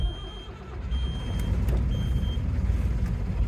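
The engine of a 1982 Yorktown 41 center cockpit sailboat is running just after starting, a steady low rumble with a faint high tone on and off, nearby and without speech.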